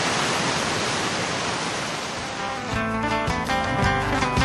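Roaring water from a waterfall in South Sulawesi, a dense, steady broadband rush, loud and continuous with no pauses, turning slightly rougher toward the end.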